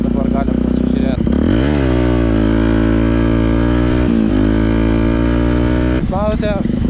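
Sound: motorcycle engine running with Akrapovič exhaust

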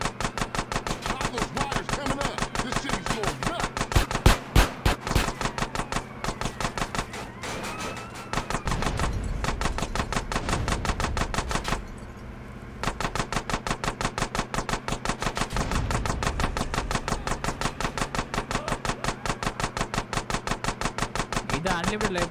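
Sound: gunfire in video game GTA San Andreas

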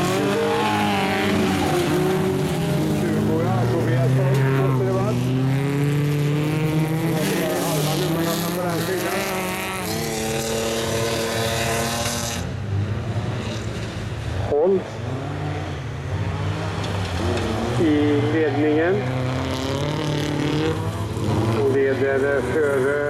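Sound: speedway motorcycles racing

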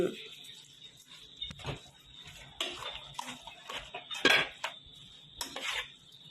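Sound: stirring bamboo shoot soup with roasted rice powder

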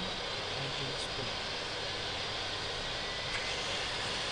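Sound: Yak-40 jet engine spinning up on air starter

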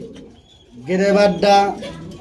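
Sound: pigeons cooing

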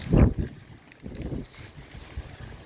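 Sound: strong wind

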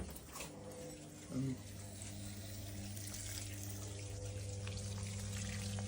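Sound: water flushed through a radiator in a shower

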